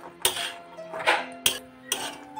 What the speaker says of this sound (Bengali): মটর দিয়ে আমি ভালো করে মশলার সঙ্গে মিক্স করে নিচ্ছি।